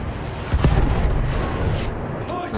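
Tank cannon fire in the Battlefield 1 video game: a deep, rumbling boom with a burst near the start, followed by a sustained roar of battle noise.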